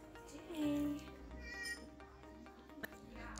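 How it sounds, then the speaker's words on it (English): A farm cat gives a short, faint meow amid quiet background chatter and ambient noise. "they found the cats that we left here when we left here"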